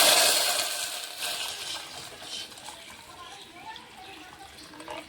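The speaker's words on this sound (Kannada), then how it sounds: "ಬೆಲ್ಲದ ನೀರು ಸೇರಿಸ್ಕೊಂಡಿದ್ದೆ ನಾನು" Jaggery water splashes and pours into a pan with a loud start, then settles into a softer bubbling sizzle, with some clinks and talk in the background.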